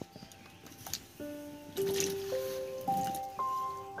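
Whole cut potatoes for jeera aloo go into a pot of water with soft squishy plops and drips, faint beneath a rising melody of steady tones.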